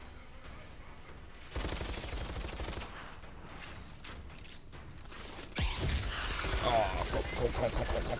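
Gunfire in the shooter game Outriders comes as bursts of rapid automatic shots with mechanical clicks, the loudest volleys near the start and again toward the end, while a man briefly exclaims over it.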